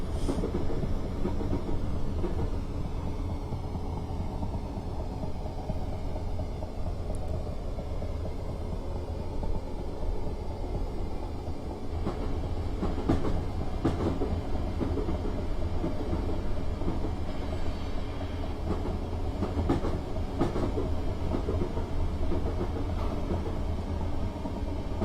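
A Class 455 electric train from Train Simulator 2016, running on the Isle of Wight Metro route, gives a steady low rumble of wheels on rails with faint clicks, continuous and even throughout, with no talking.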